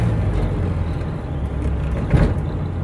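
A 1959 NSU Prinz driving along, its small engine droning steadily with a brief rise in revs and a short burst of noise as it shifts from second to third gear, close and fairly loud, with no talking.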